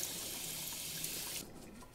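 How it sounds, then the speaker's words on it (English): A kitchen sink tap runs water into a strainer to rinse sprouting seeds, a steady close hiss of flowing water that cuts off abruptly near the end. "I'm just gonna pour my seeds into my strainer and get the water going."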